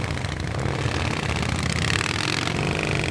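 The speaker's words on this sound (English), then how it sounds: "Let's hear it for the Zem Zem Cycle Corps based in Erie." Motorcycles of the Zem Zem Cycle Corps from Erie pulling away together in an outdoor parade, a steady, loud blend of engines idling and revving close by with no voices over it.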